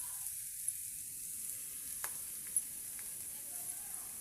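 Cabbage and peas frying in oil in a pan, a steady soft sizzle with a few faint clicks from stirring, close and alone without voices.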